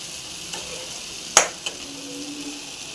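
Soft sizzling hiss from a pan of frying ridge gourd and poppy seed curry base continues throughout, with a utensil clacking once sharply and once more faintly while stirring.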